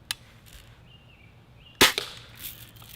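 A single sharp mechanical click snaps loudly from a Red Ryder BB gun's ratcheting lever, preceded by a faint tick in an otherwise quiet room.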